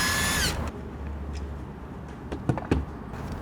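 Power drill removing screws, a loud whirring burst for about half a second, followed by quieter handling noises and small clicks and knocks close by, with no talk.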